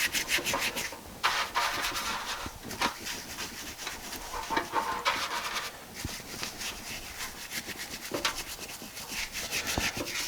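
Steady rubbing and scrubbing as muck is cleaned off a BSA motorcycle shock absorber, a close, continuous scratchy friction with short bursts of harder strokes and no talking.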